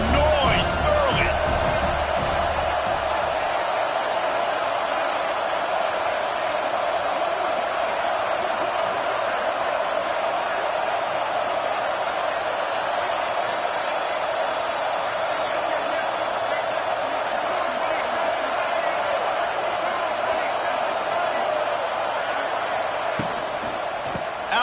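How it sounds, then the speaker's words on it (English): Spectators at a college football game between Ole Miss and Arkansas make a dense, steady roar that carries on without a break under the play-by-play commentary. "This crowd bringing the energy and noise early."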